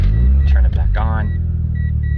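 A 1989 Mazda RX7 Turbo II rotary engine, warmed up, is restarted and settles into a loud, steady, low rumbling idle, heard up close and alone.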